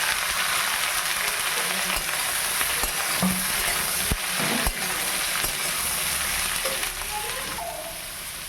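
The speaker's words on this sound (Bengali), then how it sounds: "এবার আমি ভেজে নেব।" Washed ghyme greens (ghyme shaak) and sliced onion fry in a pan with a loud, continuous crackling sizzle, broken by a few sharp spatula knocks and scrapes close up.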